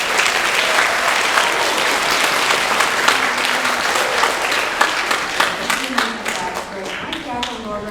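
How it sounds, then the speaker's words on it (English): Sustained applause from a symphony concert audience fills the hall at a steady, loud level throughout, with dense overlapping claps and a faint voice or tone emerging near the end. "Let's give her a big round of applause."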